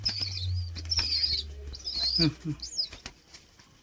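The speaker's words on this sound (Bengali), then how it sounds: "আমাদের ছোট্ট কবুতরের বাচ্চাটির নাম রেখেছি রকি।" Rapid bursts of a pigeon chick's wing flapping close by, several short flurries with soft chirps and a low hum underneath.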